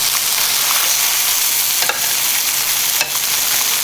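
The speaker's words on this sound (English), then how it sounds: "we're gonna add back in our chile" Chiles tossed back into a pan of softening tomatoes while making mole, giving a loud, steady sizzle and frying hiss with a couple of brief stirring scrapes.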